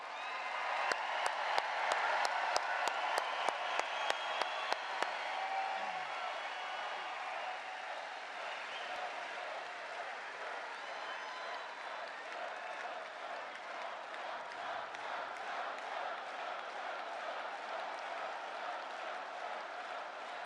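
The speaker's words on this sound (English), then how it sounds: "Let's give a big round of applause for your president." A large outdoor political rally crowd in Fort Myers, Florida applauds the president, with sharp clapping bursts at first settling into a steady, dense wall of applause and crowd noise.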